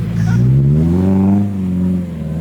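A Subaru STI engine drifting in snow revs up and eases off in one close, droning swell, with the pitch climbing and then settling.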